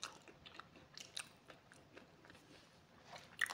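Someone bites into and chews a crunchy empanada close up, with faint, quiet crackles and crunches repeating irregularly, a louder crisp crunch near the end, and no talking.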